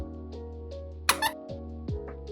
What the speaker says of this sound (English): It does squeak as well.